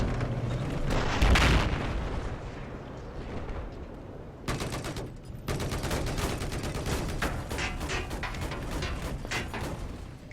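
Dense gunfire fills a Battlefield 4 match, sustained rapid bursts and booming shots layered with explosions, loud and continuous with a brief lull before the firing resumes.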